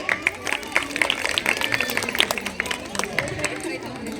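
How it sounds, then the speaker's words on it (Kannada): An audience claps at a Women's Day celebration in Yadgiri, a steady patter of many hands with crowd murmur mixed through it, continuing evenly throughout. "ದಯವಿಟ್ಟು ಜೋರಾಗಿ ಚಪ್ಪಾಳೆಯನ್ನು ತಟ್ಟಬೇಕು"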